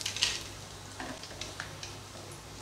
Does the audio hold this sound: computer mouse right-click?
no